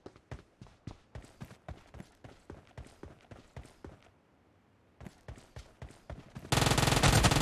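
Rapid gunfire in PUBG Mobile team deathmatch play, a steady burst of evenly spaced loud shots that pauses briefly, resumes, then gives way to a dense, continuous blast of louder firing.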